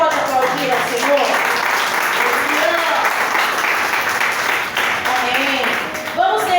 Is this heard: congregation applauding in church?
yes